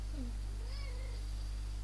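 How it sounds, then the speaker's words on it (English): A pet cat gives a single short meow close to the microphone, followed by a faint drawn-out rising mew over a steady low electrical hum. "Look, this is my kitty."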